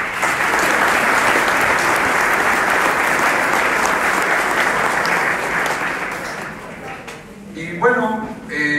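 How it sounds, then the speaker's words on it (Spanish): A conference audience applauds loudly and steadily for about seven seconds, then the clapping fades out as voices begin talking near the end. "Un aplauso para ustedes, por favor"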